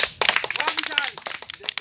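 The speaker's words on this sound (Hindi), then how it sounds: "ताली बजाओ उसके लिए" Scattered, uneven clapping from a group of children at an outdoor Independence Day gathering on a hilltop, with people talking over the claps throughout.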